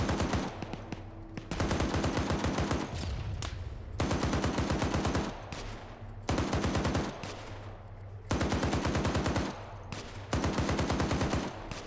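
A .50 cal machine gun in a military video game fires long, loud bursts at infantry, roughly five sustained volleys separated by short pauses, with no talk over them.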